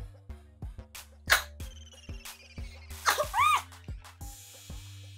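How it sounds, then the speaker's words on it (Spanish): A single sharp sneeze with breathy vocal bursts over steady rhythmic thumping background music during a makeup session. "Me pasó lo que nadie quiere que le pase, que es un buen estornudo cuando recién apliqué la máscara."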